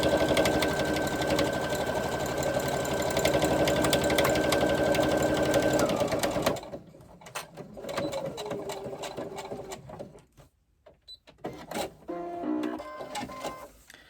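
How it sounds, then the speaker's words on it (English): Sewing machine stitching steadily across a strap, a continuous loud mechanical whir for about six seconds, then stopping, followed by quieter handling noises and scattered clicks. "you get to the other end, turn it, sew across, and then back up the other side."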